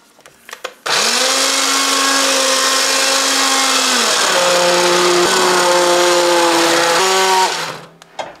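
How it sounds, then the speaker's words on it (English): A hand blender purees beet soup (borscht), starting abruptly with a loud steady whir that dips in pitch partway through as it works the thick soup, then cuts off; a few light handling knocks come before it. "This is the hand blender."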